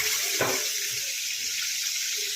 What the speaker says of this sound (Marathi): याच्यामध्ये घालायचं पाणी आपण